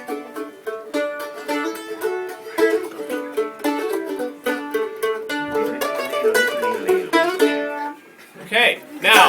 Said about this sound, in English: It's called a mandolin.